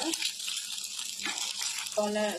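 Sago potato pakoras fry in very hot oil in a kadai, making a close, crackling sizzle throughout, with a voice briefly audible near the end.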